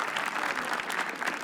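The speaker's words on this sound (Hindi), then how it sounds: "तालियां प्लीज." A comedy roast audience bursts into brief, dense clapping, loud and close, a continuous crackle lasting about a second and a half.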